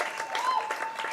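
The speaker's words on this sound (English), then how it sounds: "They are getting a standing ovation, and they are being waving to the crowd here at the Maroons." A crowd gives a standing ovation at a high school baseball game, with sustained applause heard from a distance while an announcer talks over it.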